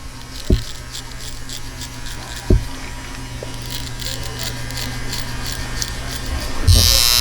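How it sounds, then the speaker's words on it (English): Electric clippers fade a beard with a steady, close buzz that runs throughout, broken by a few sharp clicks or taps as the blade guard is worked through the notches; no one speaks. "And really work the fade in. Just keep going with the notches."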